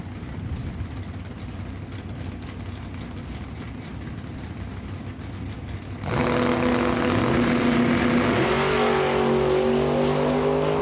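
Drag racing cars at Eddyville Raceway Park, with a steady engine rumble that jumps to a loud, roaring launch partway through, revs climbing in pitch afterward.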